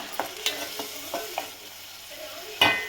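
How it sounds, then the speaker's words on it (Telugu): Ingredients fry in oil in a pan for antu pulusu, a soft sizzle broken by a few stirring scrapes and taps, close, with a louder clatter near the end. "చూడండి, ఇలా ఫ్రై కావాలి మంచిగా"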